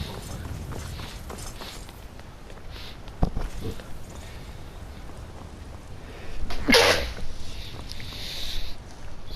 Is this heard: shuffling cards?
no